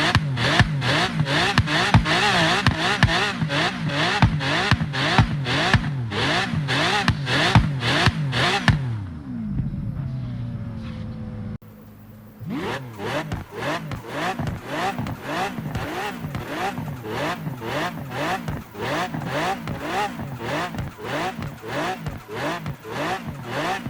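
Car engines in Forza Horizon 3 and 4 rev hard and loud in steady repeated pulses, briefly cutting out midway with tire noise, then roaring back up through the gears.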